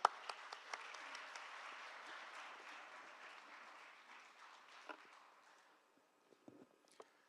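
Audience applause welcomes a professor onto the stage for an education lecture, a sharp burst of clapping that holds steady and gradually fades away, leaving a few scattered sounds at the end.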